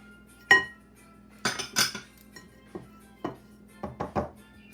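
A spoon knocks and scrapes against a bowl while Trinidadian salt fish accra batter is stirred together, giving a handful of irregular clinks and thuds close by with quiet gaps between them.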